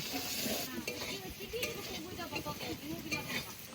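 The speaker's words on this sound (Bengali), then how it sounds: "এবার আলু একটু ভেজে নেব" Oil sizzles steadily as potatoes fry, with a spatula scraping and stirring through the pan at an irregular pace.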